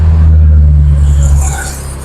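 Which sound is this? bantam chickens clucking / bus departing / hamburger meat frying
bus departing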